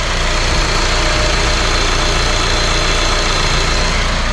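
A 2003 lifted Honda CR-V engine idling up close, a loud, steady, smooth running hum with an even low rumble throughout and no talk.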